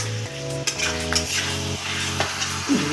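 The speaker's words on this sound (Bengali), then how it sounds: "এই দেখুন কত সুন্দর দাদা রান্না করছে।" Curry is stirred in a pan on the stove, with repeated close scraping and clinking of a spoon against metal over a steady sizzle and a low hum.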